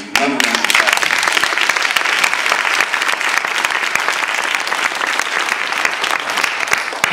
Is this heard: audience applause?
yes